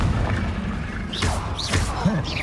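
A Confringo fire spell is cast in Hogwarts Legacy on PS5, producing sweeping magical whooshes that swell and fall, followed by soft blasts over a steady game backdrop.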